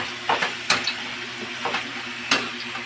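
String beans sautéing in a pan, with a soft steady sizzle broken by a few sharp scraping stirs near the start, middle and end.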